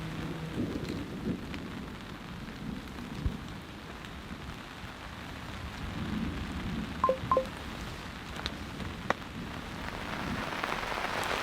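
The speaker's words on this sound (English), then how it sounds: "The next round is here. Heavy rain is incoming." Heavy rain drums steadily on a cot tent during a camping thunderstorm, a dense continuous hiss and patter with a few brief sharper taps, loud and close throughout.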